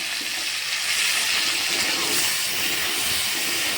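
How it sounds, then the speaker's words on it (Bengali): Chopped onions dropped into hot oil for a Bengali borboti chingri bata dish, a loud, steady sizzling hiss that carries evenly from start to finish with no talking. "এর মধ্যে এখন পেঁয়াজটা দিয়ে দেবো।"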